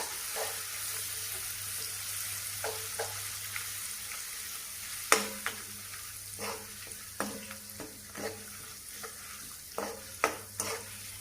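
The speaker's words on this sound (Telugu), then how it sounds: "ఈ పోపులు బాగా కలిసేట్టుగా కలుపుకోవాలి" Tempering spices for grated mango pickle are stirred in hot oil, giving a soft steady sizzle broken by a run of sharp spoon scrapes and clinks against the pan.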